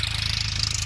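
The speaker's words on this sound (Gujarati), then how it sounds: "ટ્રેક્ટર રેઢું હાલે છે" A tractor engine runs steadily at close range while the machine drives itself by sensor steering, with a low rhythmic chugging throb under a dense mechanical whine.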